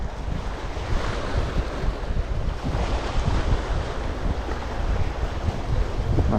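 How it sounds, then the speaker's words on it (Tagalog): Strong wind roars continuously across the microphone at a seaside fishing spot in Kuwait, mixed with the steady wash of surf, loud and unbroken throughout. "Medyo malakas ang hangin"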